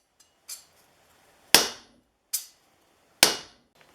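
A hammer strikes a scraper iron laid on an oak block to straighten a bend: four sharp, loud metallic whacks close by, irregularly spaced, each ringing off quickly, with silence between them.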